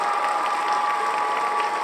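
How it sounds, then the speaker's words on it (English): Applause during a livestream, a short, steady burst of clapping and cheering that holds at an even level throughout with no talk over it. "Let's get a clap"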